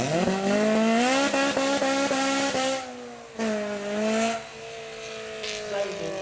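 A supercharged car accelerates hard from the bottom of a hill at a Beaulieu supercar weekend. The loud engine tone climbs steadily, breaks for a gear change, then climbs again and fades as the car pulls away.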